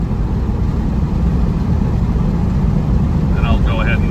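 A 1976 Porsche 912E with a 5-speed gearbox drones steadily from inside the car while driving, a loud low engine hum that continues through a downshift, with talk over it.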